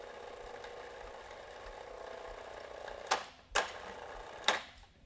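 A chain hoist runs its load chain up and back down during a monthly lubrication inspection, a steady mechanical whir with rattling clicks and three sharp clanks near the end, heard close with no talking.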